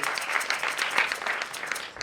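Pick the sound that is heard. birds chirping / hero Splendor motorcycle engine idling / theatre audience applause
theatre audience applause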